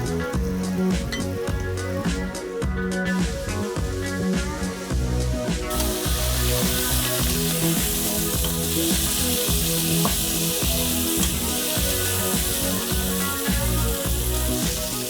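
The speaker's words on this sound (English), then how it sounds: "Let that get hot and then add in our pork." Pork sizzles and fries steadily in hot oil in a pan, with a dense, continuous crackle that stays loud throughout and brightens noticeably partway through.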